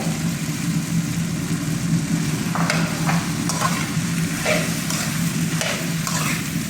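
Okra fries with tomatoes in a pan, a steady loud sizzle with a low background hum and several bursts of scraping as the mixture is stirred.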